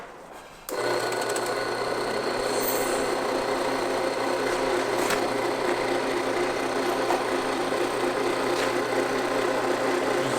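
A refrigerant recovery machine pumps the refrigerant out of a van's 12V air conditioner into a tank. After a brief quiet start, a steady, fairly loud mechanical hum and whir runs unbroken, with no talk over it.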